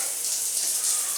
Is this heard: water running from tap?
yes